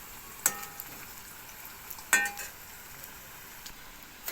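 Potato pieces frying in a pan over low gas, a quiet steady sizzle broken by two sharp metallic clinks of a utensil against the pan, with no speech.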